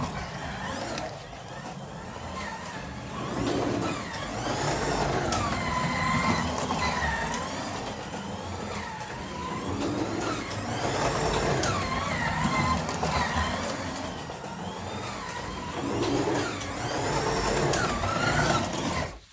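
A Carrera 1:24 scale BMW M4 slot car runs around its track with a continuous whirring motor hum that rises and falls in waves as it laps, while someone talks over it.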